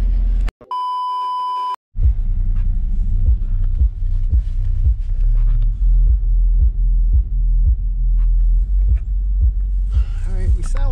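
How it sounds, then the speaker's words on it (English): A Kicker L7 subwoofer in a ported enclosure pounds bass inside a car, with deep, loud, rhythmic thumps after a brief electronic beep, while someone talks over it. "Let's see what's up with the bass, man."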